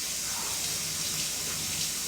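Tap water runs steadily over berries being rinsed, a close, continuous rushing splash with no talking.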